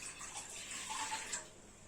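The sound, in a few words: two glasses of water poured into a pot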